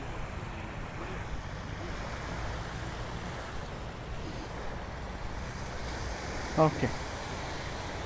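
Ocean surf at Patong Beach in Thailand washes steadily as a broad, constant rush mixed with wind on the microphone, with a brief spoken word near the end.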